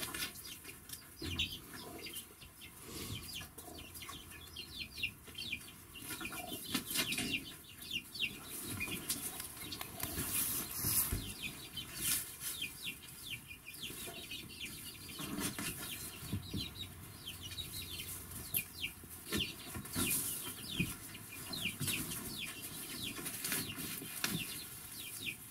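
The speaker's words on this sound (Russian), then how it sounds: "И курицы извне проникли внутрь." Chickens and young month-old chicks in a henhouse at night, soft scattered clucking and peeping with occasional wing flaps and rustling, faint and close, with no talking.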